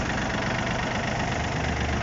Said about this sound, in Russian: Хотелось бы показать трактор Yanmar F220 с фронтальным погрузчиком и фрезой.